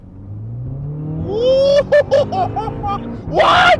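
A modified 450-horsepower Volkswagen Polo accelerates hard, its engine note climbing through rising revs, with short crackling gaps at gear changes and a loud burst at the end, under a brief startled voice.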